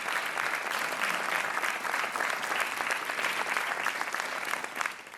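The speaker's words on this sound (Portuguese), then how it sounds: "Um aplauso para o Denis Conceição." Studio audience applause on a TV quiz show, steady dense clapping from a crowd that fills the whole stretch and fades slightly at the very end.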